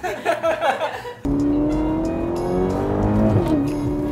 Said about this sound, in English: yep, this is a Ferrari, ladies and gentlemen